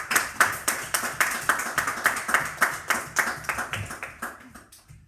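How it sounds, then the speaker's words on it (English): An audience at a school award celebration claps in a steady, even rhythm for a recipient, about twenty crisp claps fading slightly toward the end, with no talk. "Round of applause please everybody."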